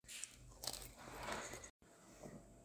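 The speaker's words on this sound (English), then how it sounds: "Great crunch, really good crust, good flavor" A crunchy pretzel baked from pizza dough, salted with coarse sea salt, gets bitten and chewed up close, giving a few crisp crunches followed by softer chewing, with no talking.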